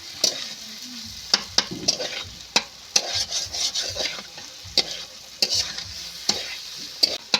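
A spatula scrapes and stirs white eggplant with egg and spices in a frying pan, sharp irregular clicks and scrapes rising over a soft, continuous sizzle nearby.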